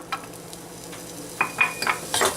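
Onions dropped into a buttered pan and beginning to sauté: a soft background sizzle, then a few quick clinks and scrapes of a utensil against the pan near the end, with no one talking.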